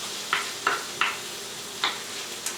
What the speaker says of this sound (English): we only want to cook this onion just till it's slightly soft and translucent